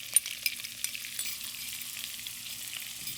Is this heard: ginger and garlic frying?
yes